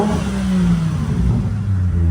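A 5.9-liter V12 rear-wheel-drive luxury car roaring as it revs, a loud, close, continuous engine drone with rising and falling pitch and no talking.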